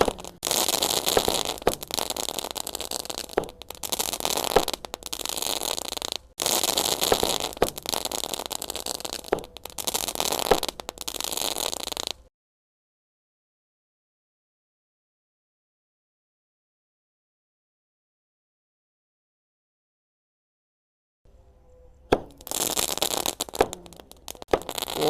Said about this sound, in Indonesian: menyalakan banyak sekali mercon petasan dari habis subuh sampai dengan pagi ini di sawah